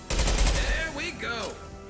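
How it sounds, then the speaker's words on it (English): Impact shot gunfire in the video game Mass Effect 2 lands as a loud, quick burst of rapid shots, followed by sweeping, tonal electronic whooshes, with no talking. "Firing an impact shot."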